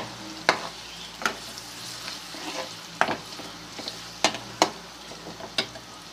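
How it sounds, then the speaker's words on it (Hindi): Two chopped onions fry in a pan for aloe vera curry, a low steady sizzle broken by sharp, irregular scraping clicks of the spatula every second or so. "प्याज जो है तकरीबन 3 से 4 मिनट हो गए हैं प्याज को फ्राई होते हुए"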